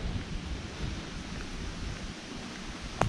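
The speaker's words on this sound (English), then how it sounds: "You can hear the river running behind the trees there." A river runs behind trees at a Lake District campsite in Cumbria, a steady broadband rush of flowing water mixed with wind, continuous and fairly loud, with a brief knock near the end.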